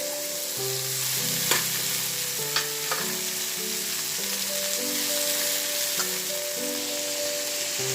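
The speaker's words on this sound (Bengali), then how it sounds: "আমি অফ ক্যামেরা যেহেতু ভাজিটা একটু নেড়ে দিচ্ছি" Papaya being fried in hot oil, a steady crackling sizzle with a few sharp scrapes of stirring, while soft background music with sustained tones plays throughout.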